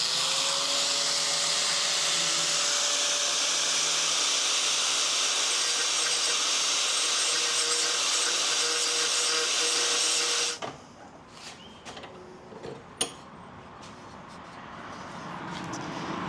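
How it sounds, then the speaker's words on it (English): A Makita power grinder works a nicked blade from a 2025 Echo gas mower, producing a loud, steady high-pitched grinding whine that runs continuously for about ten seconds, then stops, leaving quiet room sound with one sharp knock. "I'm just going to use my Makita real quick to remove some of that"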